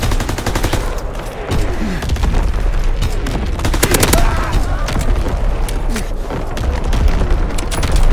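Artillery strike barrage in the Call of Duty video game, a continuous dense rumble of booms and rapid gunfire layered throughout, loud and sustained.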